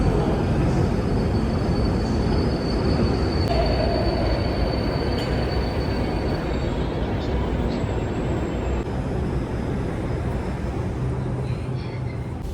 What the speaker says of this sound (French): je vais prendre le métro pour la première fois en Hongrie, à Budapest